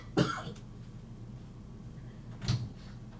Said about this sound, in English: I've still got this cough, this pesky cough